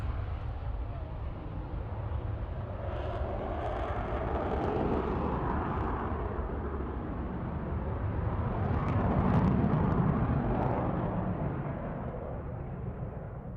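A Eurofighter Typhoon with full phase 3 enhancement roars through a flying display at Farnborough airshow, a loud, broad jet rumble that swells toward the middle and fades slightly, heard alone without talk.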